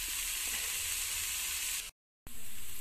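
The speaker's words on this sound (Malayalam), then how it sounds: "ഇത് മീഡിയം ഫ്ലെയിമിൽ നന്നായിട്ട് വഴന്ന് വരുന്നവരെ നമുക്ക് വെയിറ്റ് ചെയ്യാം." Cauliflower masala ingredients sauté in a pan over a medium flame, giving a steady, bright, close sizzle that cuts out briefly near the end and then resumes.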